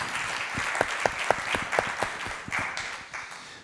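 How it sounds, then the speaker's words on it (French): Audience applause for the morning's presenters at the ePIC 2019 conference session, a dense wash of many hands clapping at moderate distance, steady for several seconds with a few sharper claps standing out near the front. "On peut les applaudir une dernière fois donc"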